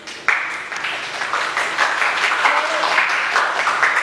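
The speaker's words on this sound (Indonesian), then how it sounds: "Tepuk tangan yang meriah." Loud, enthusiastic applause erupts from an audience at an Indonesian literary event to welcome a poet and professor, starting abruptly and continuing as dense, steady clapping.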